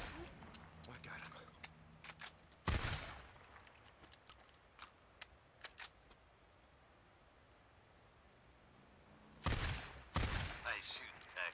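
Gunfire against Rippers in the Days Gone video game, two loud separate bursts of shots, the first brief and the second fuller, with quiet scattered clicks and rustles between.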